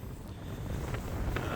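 Steady wind buffeting the microphone, a low rumbling roar with no voices, constant and close throughout.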